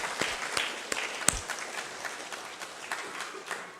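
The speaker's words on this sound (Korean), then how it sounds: "박수 한번 하겠습니다" Church congregation at a Sunday service in Gyeongju applauding to welcome newcomers, a moderate, steady patter of hand claps with a few sharper individual claps standing out, fairly distant and diffuse.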